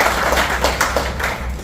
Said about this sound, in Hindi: जोरदार तालियां बजाएं उनके लिए